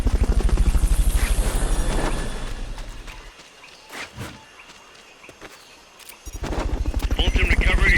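Fulton recovery helicopter in Metal Gear Solid Peace Walker: a loud, pulsing rotor thrum opens the scene, drops away into quieter footsteps and sparse sounds, then the rotor beat returns strongly at the end.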